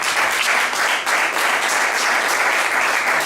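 A crowd at a boxing gala weigh-in in Le Creusot applauds a boxer, the clapping dense, loud and steady for the whole stretch with no gaps.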